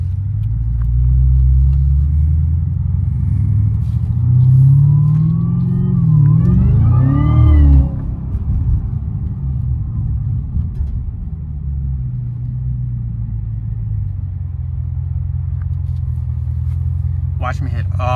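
A supercharged Cadillac CTS-V in track mode cruising through downtown Charlotte, its engine a loud, steady low rumble with a rising rev and supercharger whine midway before settling back to a steady drone.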